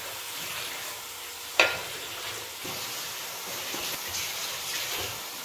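Tomato goes into a hot frying pan of tamarind-rich sardine gravy and is stirred, a soft steady sizzle with a sharp clink of the spoon early on and faint scraping after.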